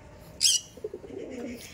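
A pigeon, a lightweight paper-like tournament flying bird, coos softly and close by after a brief sharp rustle, its low murmuring coo lasting about a second.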